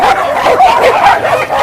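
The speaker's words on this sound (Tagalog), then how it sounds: "Ayan po sila. Tropa ng mga aso." Several dogs at an animal shelter yipping, whimpering and barking together in a loud, close, overlapping chorus of high excited calls.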